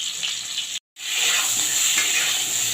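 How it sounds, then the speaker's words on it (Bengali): Potatoes and papaya fry with Kashmiri chilli in hot oil, a loud, close, hissing sizzle that runs continuously apart from one brief break near the start. "আর একটু কাশ্মীরি লঙ্কা দিয়ে আমি ভালো করে আলু আর পেঁপেটাকে ভেজে নেব"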